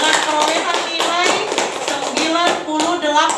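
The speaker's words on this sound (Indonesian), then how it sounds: "Tepuk tangan." A classroom of pupils claps their hands together in a quick, rhythmic burst that runs for several seconds, loud and close, with children's voices mixed in.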